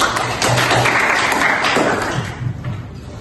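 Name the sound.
applause for a student in a classroom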